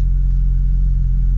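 A Porsche GT3 RS engine rumbling at close range, a steady deep drone with slight revving swell while the car is driven and shifted with the steering-wheel paddles, no voices.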